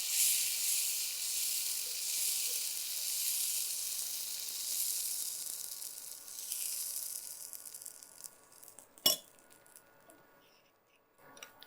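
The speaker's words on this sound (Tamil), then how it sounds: "இன்னும் ஒரு அடை இதில் ஊற்றலாம்." Adai batter made with snake gourd sizzles and hisses steadily on a hot pan, a dense frying crackle that fades toward the end, with one sharp clink near the close.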